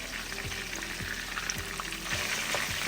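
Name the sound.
chicken pieces frying in a pan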